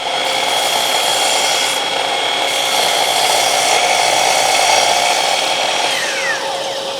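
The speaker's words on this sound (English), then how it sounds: "So I've just cut the 2 pieces" A miter saw cutting wood pieces for a jig used to build a wooden Christmas tree, running as one loud, steady whine with a gritty rasp. It holds for about seven seconds with no talk over it.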